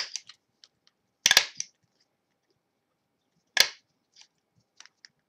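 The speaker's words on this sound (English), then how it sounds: "And I'm going to staple this like this." A handheld stapler punches through a paper mini album made from a single 12x12 sheet, giving two sharp, close clacks a couple of seconds apart, with faint paper handling in between.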